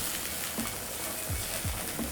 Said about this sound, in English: Then I'm going to let them saute for about 1 minute.